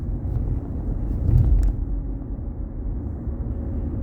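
Steady low road rumble of a car driving through afternoon traffic in the northeastern US, heard from inside the cabin, with a slightly louder swell of passing traffic midway and no talking.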